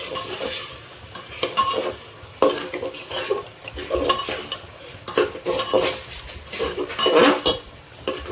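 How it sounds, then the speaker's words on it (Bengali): An egg and potato curry is stirred and fried in a pan, with a spoon scraping and clinking against the metal in irregular bursts over a soft sizzle, close and moderately loud. "এবার ভালোভাবে কষিয়ে নেব।"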